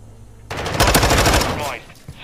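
Several players fire at once in a video game shootout on the Hotel map, a sudden loud burst of rapid gunfire that lasts about a second and a half before cutting off, with no voices over it.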